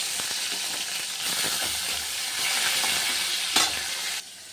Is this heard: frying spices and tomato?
yes